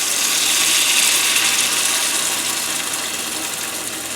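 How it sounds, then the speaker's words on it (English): Leftover rosemary marinade, strained through a spoon into a hot pan, gives a loud, steady, close sizzling hiss that fades slightly as it goes on, with no talking. "We're going to take some of our leftover marinade, kind of strain it through your spoon or a strainer."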